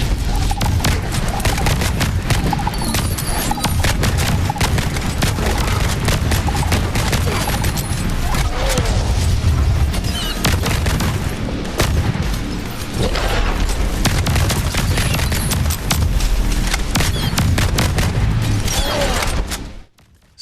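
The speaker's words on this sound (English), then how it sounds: "few things make you feel more like a badass than firing an overpowered and loud weapon at an alien" Overpowered, loud guns blast at aliens in the VR roguelike shooter Dead Hook, a dense, continuous barrage of shots and booming impacts filling the whole stretch before cutting off abruptly at the end.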